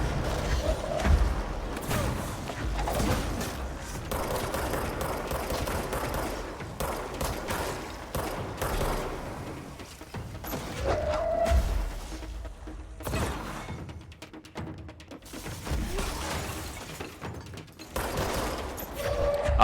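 Sniper gunfire and combat in the video game Control, rapid bursts of shots and impacts with whooshes, loud and dense, easing briefly before picking up again.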